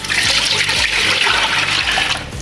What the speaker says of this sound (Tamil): இப்போ கொஞ்சம் நிறைய பால் ஊற்றுறதை காட்டுறேன்.